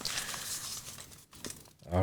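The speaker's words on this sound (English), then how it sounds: "giving the questions a good shuffle" Paper question cards rustle and crinkle as they are shuffled, in a few short bursts with brief pauses.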